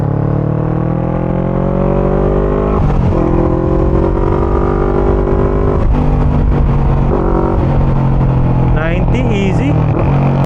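VOGE 500 DS motorcycle ridden on twisty roads, its mid-pitched engine droning loudly and continuously, rising and falling with throttle through bends, with wind rush and a rider talking over it.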